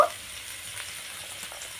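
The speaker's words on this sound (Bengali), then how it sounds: "গাজরটা একটু এইরকম ভাজা ভাজা করে নিয়েছি।" Chopped carrots frying in a pan for homemade pasta give a soft, steady sizzle at low volume, with a brief louder burst at the start.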